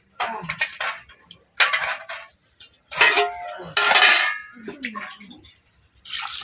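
Cleaned small freshwater fish are washed with water in a vessel. Several bursts of splashing and swishing come with clattering knocks against the container, separated by short quiet pauses.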